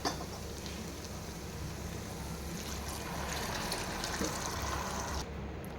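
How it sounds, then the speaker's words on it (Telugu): Water poured into rice in a cooking pot makes a steady, fairly faint splashing trickle for about five seconds, then cuts off. "ఇప్పుడు ఇందులో వాటర్ పోసేసుకుందాం."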